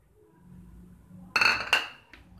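Sugar spooned into a mango drink made from mango pulp and milk, heard as two sharp metallic clinks of a spoon against a container, close and fairly loud, followed by a faint tap.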